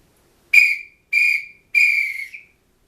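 A referee's whistle gives three piercing blasts signalling full time, evenly spaced, the last one held longest, loud and close against silence.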